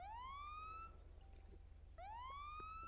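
A police car siren in a video game wails in two rising sweeps with a brief pause between, clear and fairly close over a low steady hum.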